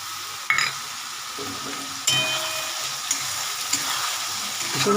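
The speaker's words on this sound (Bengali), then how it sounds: "এই যে মশলাটা করে রেখে সব কিছু মিশিয়ে সেটা এখানে আমি ছেড়ে দেবো" Spice paste for a spicy tilapia curry lands in a hot pan with a sudden loud sizzle, then fries steadily with a few scraping stirs and renewed bursts of hissing.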